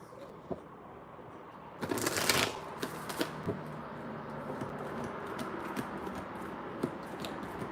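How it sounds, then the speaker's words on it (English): Tarot cards being shuffled close up, a burst of riffling followed by scattered soft flicks and taps, fairly quiet with no voices. "Can you let me shuffle those cards, lady?"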